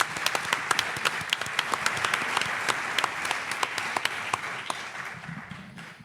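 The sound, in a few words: audience applause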